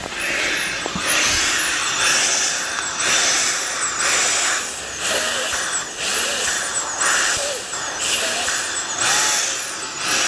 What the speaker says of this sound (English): It's going to activate our vacuum pump.